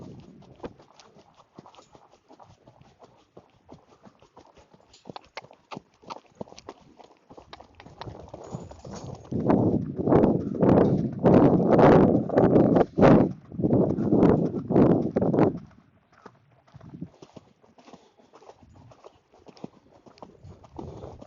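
A horse lopes in an arena, its hooves beating a steady three-beat clip-clop that grows louder and closer mid-way, then fades to scattered lighter hoofbeats and shuffling.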